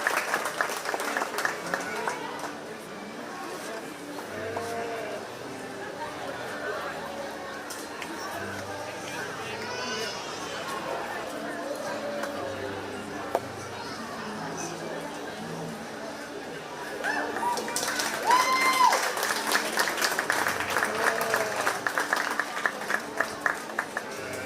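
Audience at a county fair 4-H sheep and goat show claps for the young showmen, a crowd ovation swelling in the last third after a stretch of murmuring chatter and an announcer's voice over the arena.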